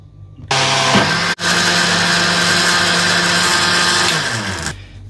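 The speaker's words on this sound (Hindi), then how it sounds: "अभी इसको ग्राइंड करने वाले हम लोग" A jug blender grinds yogurt with water and spices for karhi. The motor kicks in loudly, dips for an instant, then holds a steady high whine for several seconds before spinning down and stopping.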